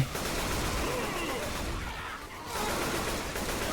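Gunfire from the Left 4 Dead 2 video game rattles in dense, continuous bursts, with a brief lull before the shooting resumes loud and close.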